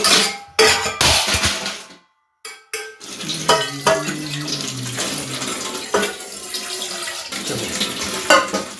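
Water poured into a pot for making tea over a gas-cylinder stove, a steady splashing pour broken by a short pause, with light clinks of the pot and utensils close by.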